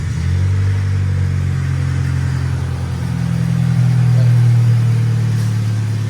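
Car engine running on its own carburetor fuel system, a steady loud low idle rumble with a slight rise in revs partway through, no voices.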